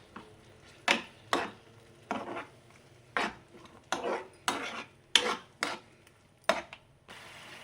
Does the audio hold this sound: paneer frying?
yes